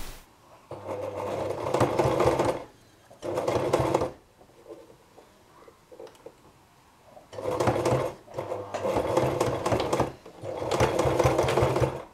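A sewing machine stitches a seam in stretchy jersey fabric for a face mask, running in several loud bursts of rapid whirring, separated by short pauses and faint handling noises.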